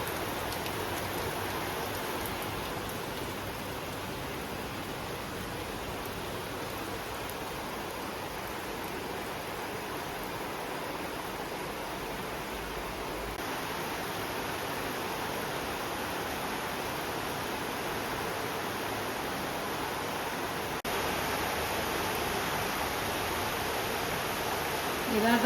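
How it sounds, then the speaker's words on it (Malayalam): Heavy monsoon rain pours steadily outside a new family home in Kerala, a dense, unbroken hiss of drops on surfaces that holds even in loudness throughout and swells a little toward the end. "ഇതാ പുറത്ത് നല്ല മഴ പെയ്തുകൊണ്ടിരിക്കട്ടെ."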